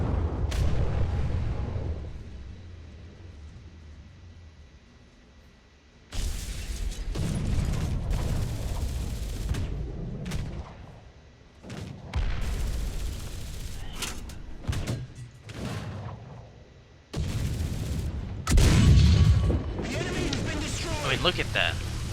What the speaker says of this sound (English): Look at the explosion inside of that vehicle.